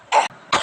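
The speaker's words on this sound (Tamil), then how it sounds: "இப்போ வரும் பாருங்க எனக்கு ஒரு தும்மல்." A person lets out two short, sharp explosive bursts, close and fairly loud, with a brief pause between them, in the manner of a sneeze or cough brought on by a cold remedy.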